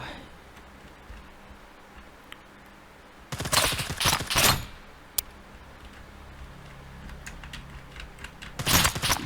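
Gunfire in the survival shooter Scum comes in rapid bursts, one long burst near the middle and another at the end, with a single sharp shot between them, over quiet background noise.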